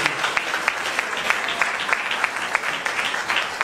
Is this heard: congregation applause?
yes